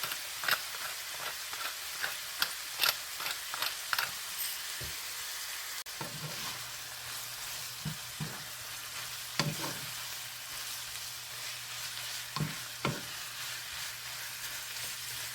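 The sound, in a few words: ground meat frying in a pan for picadillo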